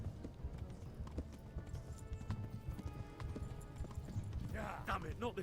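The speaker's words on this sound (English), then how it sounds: "I just don't trust myself driving this horse." Horse hooves clip-clop in steady rhythm in the medieval video game Kingdom Come: Deliverance, mixed with game sounds and a talking voice throughout, with a brief brighter burst near the end.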